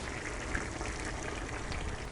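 Ground coconut paste is poured into a simmering jackfruit seed and brinjal curry, giving a soft, steady liquid pouring and bubbling sound, fairly quiet and continuous with no talking.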